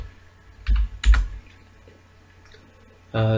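Computer keyboard keys clicking while C code is typed, two short bursts of taps, a pause, then another quick flurry at the end, close and crisp with no talk.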